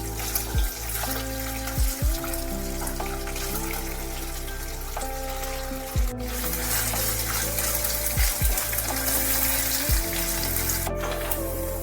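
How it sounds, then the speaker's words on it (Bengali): Paneer pieces fry in a pan until browned, giving a continuous soft sizzle and bubbling with a few brief clicks and knocks along the way. "এইভাবে লাল লাল করে ভেজে নিতে হবে"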